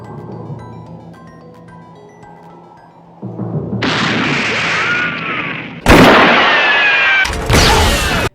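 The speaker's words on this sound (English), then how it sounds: "a neat shot he made that had the sound of a spaghetti western bullet shot" A spaghetti western-style bullet shot from The Mandalorian rings out as a sharp, loud bang with a ringing whine, followed by a second burst after a buildup of rumbling, echoing blasts.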